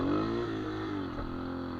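Dirt bike engine revving hard as the clutch is let out for a wheelie, a loud, close, sustained mid-pitched roar that climbs then holds steady throughout.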